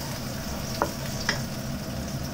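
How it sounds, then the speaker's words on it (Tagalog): Bitter gourd (ampalaya) sautés in a pan with a steady, broad oil sizzle close by, marked by two brief utensil clicks, and no one speaking. "Igisa ko lang po yung ampalaya"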